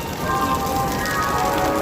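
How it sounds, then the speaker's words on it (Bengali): Steady, dense patter of rain hitting a surface on a train, continuous and fairly loud throughout with no pauses and no voices. "এই যে ভাই বৃষ্টির জলটা পড়ছে, এটা বৃষ্টির জল"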